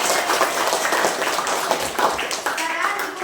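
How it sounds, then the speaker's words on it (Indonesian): Classroom of students clapping for themselves, a dense, steady patter of many hands sustained throughout, with voices mixed in. "Tepuk tangan dulu untuk diri kamu sendiri"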